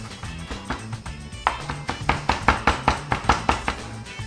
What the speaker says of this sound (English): I'm going to chop some Italian parsley.